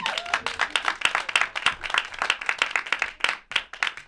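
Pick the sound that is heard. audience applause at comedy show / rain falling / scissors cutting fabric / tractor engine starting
audience applause at comedy show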